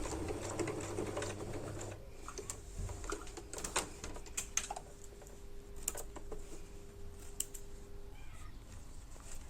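A domestic sewing machine stitches a baby panty, its steady motor hum running throughout with sharp clicks and clatter from the needle and feed, recorded close with no talking.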